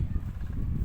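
Chickens in a windy park on a rainy day, their faint clucking almost buried under a heavy, continuous rumble of wind.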